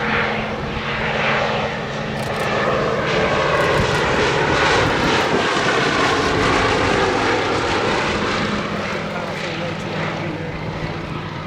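Fairey Swordfish Mk1 biplane in a flying display at a military air show, its piston engine and propeller droning loud and steady overhead throughout, with a commentator talking over it.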